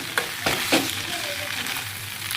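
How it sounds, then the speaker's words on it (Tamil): Sorrel leaves (pulicha keerai) sauté in a pan with a steady soft sizzle, a few sharp stirring scrapes near the start, close and moderately quiet. "கொஞ்சம் கொஞ்சமாக போட்டு வதக்கலாம்"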